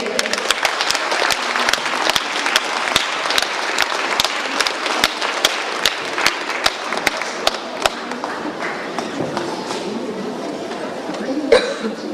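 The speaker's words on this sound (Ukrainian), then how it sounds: "великі, великі їм оплески" Theatre audience applauding after a children's New Year's dream play, a dense steady wash of clapping with sharp individual claps standing out, fading somewhat toward the end.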